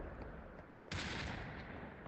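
A single sniper rifle shot fires in the VR shooter Population One, a sudden sharp burst that trails off into a sustained rumble at low volume.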